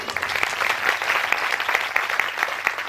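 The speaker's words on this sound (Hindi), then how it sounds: "अभी साईं जी के लिए तालियां नहीं बजाओगे?" A seated audience at a Bhagwat Katha religious discourse in Amravati claps in unison for a saint, a continuous patter of many hands at moderate loudness, no speech over it.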